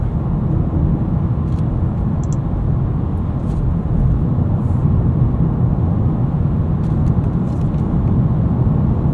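A loud, continuous low roar of tires on a loud section of pavement fills the cabin of a 2025 Honda Accord Hybrid Touring on 19-inch wheels, broad and steady throughout with no speech.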